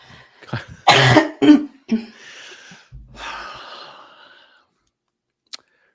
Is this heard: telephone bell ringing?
no